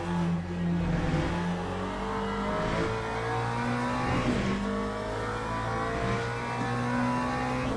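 Race cars roar steadily around the Le Mans circuit in a racing simulation game, a constant loud engine drone with shifting pitch as they accelerate, no voices over it.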